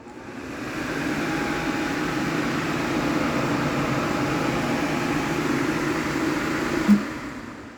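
Electric ceiling fan switched on with a smart switch, running as a steady broadband whir and hum that swells in at the start and holds, with a brief click near the end.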